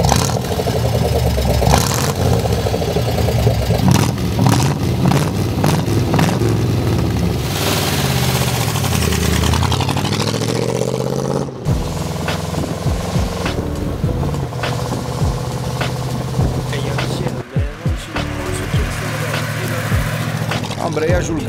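A 1964 Chevrolet Corvette Sting Ray convertible engine runs steadily and loudly, rising and falling in pitch as the car accelerates and the revs change, with a few sharp transients partway through.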